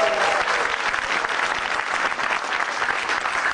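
An audience at a stand-up comedy show bursts into loud, sustained applause, a dense wash of clapping that carries on unbroken.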